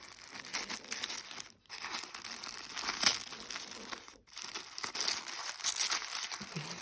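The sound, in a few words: tissue paper crinkling during unwrapping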